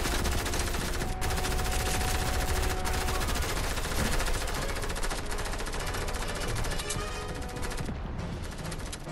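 Rapid SMG fire in the video game Fortnite, loud continuous bursts of automatic gunshots rattling close up, with brief gaps between volleys and no speech over the top.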